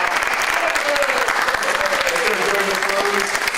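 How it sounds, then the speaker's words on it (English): An audience at a convention applauds keynote speaker Thomas Fluharty with steady, even clapping throughout the short stretch, while a voice speaks over it. "Big round of applause."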